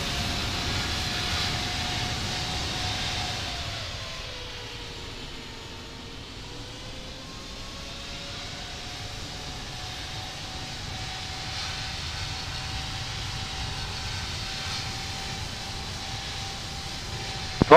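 Airliner engines idle and rumble steadily while taxiing at Rome Fiumicino airport in the Infinite Flight simulator, a constant whine and broadband roar that dips slightly midway and then holds level throughout.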